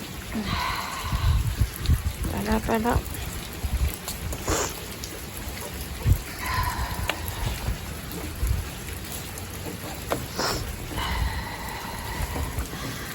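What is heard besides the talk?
rain falling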